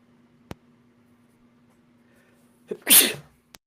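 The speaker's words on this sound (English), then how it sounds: "Sorry, I had a sneeze." A single loud sneeze bursts out near the end of the quiet stretch, with a couple of small clicks and a faint hum around it.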